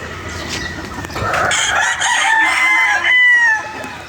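A gamecock crows loudly and close, a long drawn-out call ringing over a busy game farm yard with other fowl calling faintly around it.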